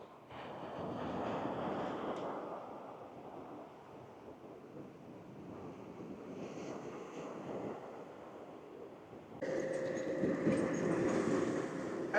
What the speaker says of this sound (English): you hear that? Those are waves.